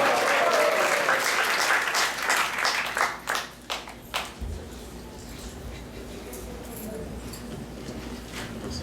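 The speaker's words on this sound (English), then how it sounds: "Let's give a round of applause for him" Temple congregation applauding the feast sponsor at a Balaram Jayanti celebration, a dense round of clapping that thins into a few scattered claps and fades out, followed by quiet room tone.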